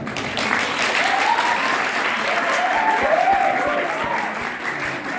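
Students at a mock jury trial get applause from the audience, a steady wash of many hands clapping that holds at even loudness for the whole stretch, with a few voices underneath.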